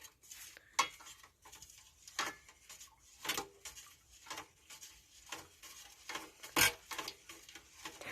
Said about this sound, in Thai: หลังจากนั้นก็คนส่วนผสม ทุกอย่างให้เข้ากันนะคะ คนให้เข้ากัน